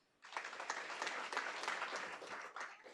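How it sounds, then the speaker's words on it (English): A round of applause at a school board meeting honoring commended students, with a room full of steady clapping that starts abruptly and holds at moderate level for a few seconds. "Please give one more big round of applause for our commended students."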